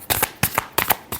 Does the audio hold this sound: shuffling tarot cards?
yes